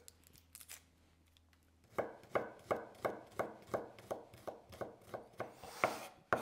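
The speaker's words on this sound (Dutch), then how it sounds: "Die uien en dan 6 tenen knoflook. Ook even pellen en fijn snijden." Finely chopping peeled garlic cloves with a knife on a cutting board gives a steady run of close, crisp taps, about two per second, with no voices.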